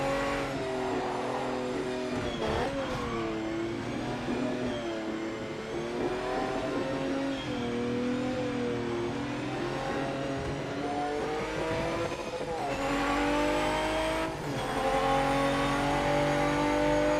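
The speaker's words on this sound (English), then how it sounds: "the sound of the cars. I mean, I think they just took each car to one side and just revved the tits out of it" Race cars in the PC racing game PMR rev hard and accelerate, a loud continuous engine roar with rising and falling pitch sweeps through gear changes, close and sustained, with no talk over it.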